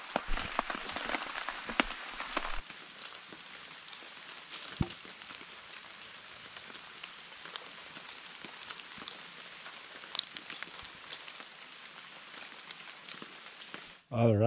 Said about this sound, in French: il a arrêté de pleuvoir.